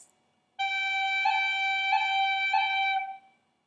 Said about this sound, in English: So now we're going to do a G pip.